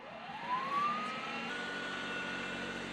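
A Toro 60V SnowMaster battery snowblower spins up with a rising whine that settles into a steady, loud motor drone and rushing hum, continuous and close with no talk.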